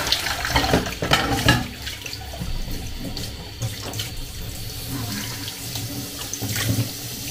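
Tap water runs steadily into a sink, splashing and gurgling as dishes are rinsed under the stream.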